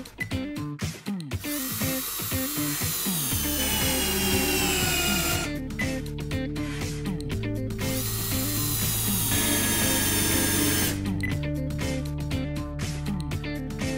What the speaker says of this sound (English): We measured the screw in torque in beechwood for 3 different screws.